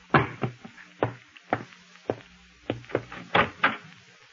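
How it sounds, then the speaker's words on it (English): Knocking at a door in a radio drama, a run of sharp raps in uneven clusters, fairly close and with no voices over them. "Oh, excuse me. Someone's at the door."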